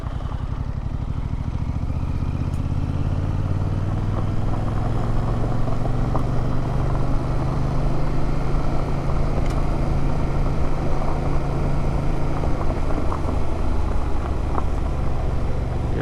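A Yamaha MT07 streetbike rolls along a gravel road, its engine droning steadily under a constant wash of wind and tire rumble, close and loud for the whole stretch with no talk.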